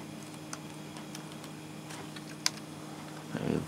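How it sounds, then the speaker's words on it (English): Sparse, faint key taps on a Dell Latitude CP laptop keyboard, with one sharper click near the middle and a soft rustle at the end, all over a steady low machine hum; no one speaks. "Let me type in a message."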